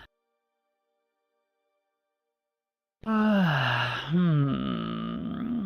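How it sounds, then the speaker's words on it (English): After a few seconds of silence, a person lets out a long, deliberate yawn, a slow, breathy, voiced exhale heard close and alone. "just do a couple of yawns. Let it like a nice big yawning breath"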